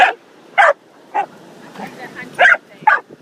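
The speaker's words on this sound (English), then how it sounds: "I've never seen her play like this with a puppy." A puppy gives short, high yips and barks in an irregular burst of about five calls with quiet gaps between them, close by during play.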